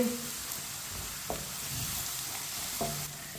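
Onions sizzle softly in a pan for aloo bhindi, with a steady low frying hiss broken by a few light clinks and scrapes of a stirring spoon.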